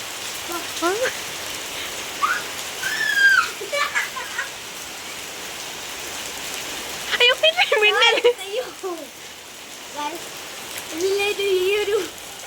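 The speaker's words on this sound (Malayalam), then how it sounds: "മഴ എക്സ്പീരിയൻസ് ചെയ്യണം" Monsoon rain falls in a steady, even hiss on surfaces nearby, continuing beneath scattered voices talking.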